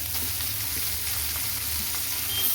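Onion fries lightly in a pan with a continuous close sizzle and hiss, holding an even loudness throughout the short stretch.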